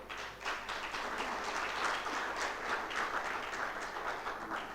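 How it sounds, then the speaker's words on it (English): Audience applause for a panel and its moderator at an energy investment forum session on universal electrification, a steady dense wash of many hands clapping throughout, moderately distant and even in level. "Let's give another applause for the wonderful panel and the moderator."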